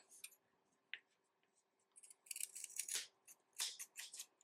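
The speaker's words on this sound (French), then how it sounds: "on va juste couper tout ce qui dépasse" Scissors snip excess yarn from a left-handed crochet braided faux-macramé keychain, a few close, crisp cuts with a busier run of snipping near the end, no talking.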